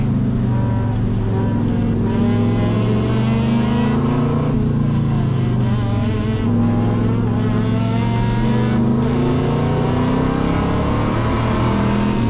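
A classic car screams along a track at Les Classic Days in fifth gear, its engine a loud, steady high-revving drone heard from on board, the pitch sliding slightly as revs settle and climb.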